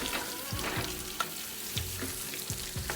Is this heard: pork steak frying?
yes